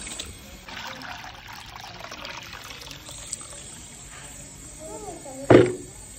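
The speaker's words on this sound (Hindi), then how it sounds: "अभी पानी के कटोरे डाल रहे हैं जी" Water pours from a bowl into a pot in a steady broadband wash, ending in a louder splash near the end, with faint talk in the background.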